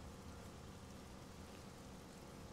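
Steady rain falling on a dark, miserable day, a dense continuous hiss of drops spread evenly across the whole moment, fairly faint and with no voices over it.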